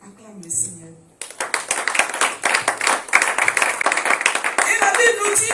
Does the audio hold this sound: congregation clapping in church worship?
yes